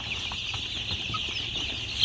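Two-week-old local chicks on a Nepali poultry setup cheep in a steady, continuous chorus of high peeps, fairly close, with no talking over them.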